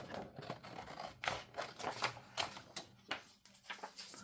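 Scissors snipping through paper around a journal card, a quick run of crisp, close cuts in an uneven rhythm, with no talking.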